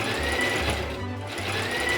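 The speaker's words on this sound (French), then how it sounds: "Nous allons piquer le côté le long de la ligne de piqûre" A sewing machine stitches the side seam of a pair of jeans, close and loud, its motor hum pulsing in short rhythmic bursts with a brief pause in the middle.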